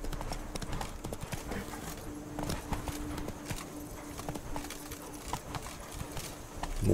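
Horse hooves clip-clopping at a steady riding gait in The Witcher 3: Wild Hunt (Blood and Wine), continuous and close over ambient game sound, with no one talking.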